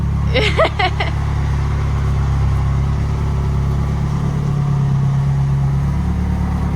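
A Nissan S13 with a CA18DET engine on its first drive, a steady low engine drone close by with a brief higher whine near the start.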